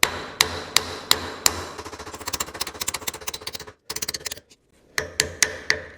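A hammer strikes the connecting rod bolts of an AMC Rebel SST engine, giving sharp, close metallic blows, first spaced, then in a quick rapid run, a short pause, then a few more spaced strikes.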